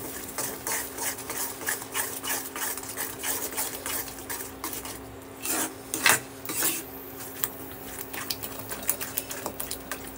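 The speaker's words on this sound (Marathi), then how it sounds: "आता यात आपण दही आणि जे गरम मसाला ठेवलेला आहे ते यूज करणार आहोत आणि याला छान असं मिक्स करून घेऊया" Curd and garam masala being stirred into palak paneer gravy in a pan, a continuous scraping and rubbing of a spoon with occasional louder knocks against the pan's side.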